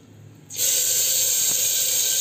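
Tap water runs steadily over a bowl of mung dal and dalia as they are rinsed; after a brief quiet moment, a broad, even rush starts abruptly and continues on its own.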